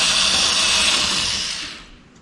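A power drill runs steadily while it cleans out a hole in an aircraft wing spar, loud and close, then winds down over the last second.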